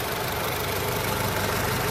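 A 2014 Honda Jazz RS GK5 automatic idles steadily, a low, even engine hum with a faint rhythmic pulse, heard up close and alone without speech.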